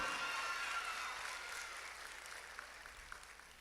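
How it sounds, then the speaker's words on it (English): An audience at a high school band award ceremony applauds, a soft, fairly distant wash of clapping that slowly fades over a few seconds. "Give her a round of applause."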